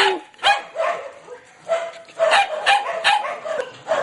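Several puppies in a kennel at an animal rescue centre in the Philippines bark and yip in short, close bursts, with high whimpers and yelps in between.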